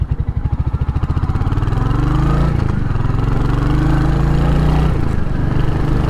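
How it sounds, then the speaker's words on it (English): A 2023 Royal Enfield Hunter 350 single-cylinder on the road gives distinct, close exhaust thumps that quicken into a steady, loud drone as it accelerates. Pitch shifts mark gear changes, and there is no talk. "I can hear the thump of the exhaust, but there's really no other mechanical noise."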